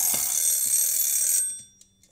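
An alarm clock rings with a shrill, continuous bell in a home kitchen during dough-making, steady and loud for over a second before stopping abruptly, followed by a few faint knocks.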